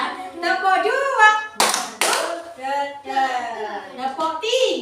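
Young children in a preschool classroom clap their hands in two sharp, loud bursts, while an adult teacher and the children talk and sing-song around the claps.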